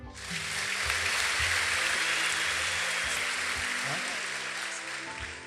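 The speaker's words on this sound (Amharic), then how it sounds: "አጨብጭቡለት።" An audience at a church youth testimony gathering claps continuously in dense, loud applause that holds steady for several seconds before easing slightly at the end.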